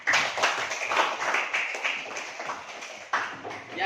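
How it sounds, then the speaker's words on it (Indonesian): A classroom of students claps together in a steady burst of applause lasting several seconds, fairly close and even, with no voices over it. "Tepuk tangan dulu."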